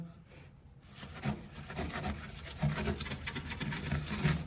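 A sandpaper sanding pad rubs back and forth over shiny metal during rusted floor repair, a steady rasping scuff that grows a little louder after the first second, with no talking.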